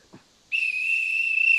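After a brief quiet moment, a whistle sounds a single sustained, shrill blast to signal that time is up in an online improv comedy match, loud and close until the end.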